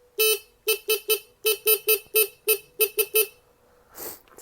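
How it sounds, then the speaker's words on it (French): A Kymco KPW 50cc moped's horn blares in a rapid series of about a dozen short, loud, close honks with a steady buzzy tone, then a brief rustle afterward. "Faut que je vous fasse écouter le klaxon"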